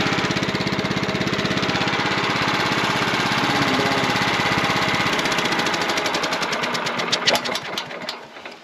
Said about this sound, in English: We'll shut down the engine.